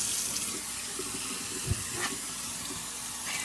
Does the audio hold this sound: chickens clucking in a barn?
no